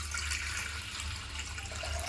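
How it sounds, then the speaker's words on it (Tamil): Water pouring steadily into a cooking pot while preparing pearl millet porridge, a continuous gushing, splashing flow heard close and alone without talk. "இதுலேயே 5 கிண்ணம் அளவுக்கு நான் தண்ணி வைக்கிறேன்."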